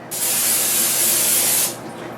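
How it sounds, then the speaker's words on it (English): A steady hiss of cooking spray from an aerosol can coating a large pan, one continuous close burst lasting under two seconds, with no talking. "I am going to spray my big pan with some cooking spray so the pancakes don't stick."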